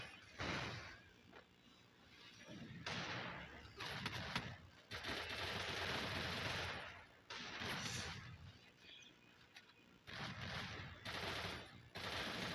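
Rapid automatic gunfire from the Free Fire battle game comes in repeated loud bursts with short gaps between them, and a voice talks faintly in places.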